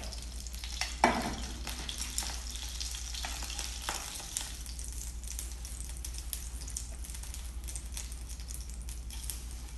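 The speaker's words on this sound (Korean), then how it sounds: "표고전이 앞뒤로 이렇게 노릇하게 잘 지져졌습니다." Shiitake mushroom jeon frying in oil in a pan over low heat, a steady close sizzle with a louder burst of spatter near the start and occasional small pops throughout.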